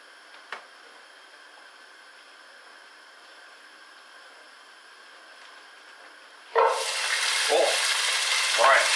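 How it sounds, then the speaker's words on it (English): Beans dropped into a hot pan for a Bulgarian bob chorba, breaking into a loud, steady sizzle after a quiet stretch, with a few stirring scrapes over the frying hiss. "we're going to fry the beans for 2 minutes on a slightly lower heat than that"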